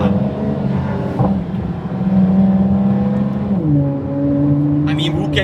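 Ford GT V6 engine heard from inside the cabin, a steady droning rev that holds, then drops in pitch partway through before settling into a lower hum, with voices faintly over it.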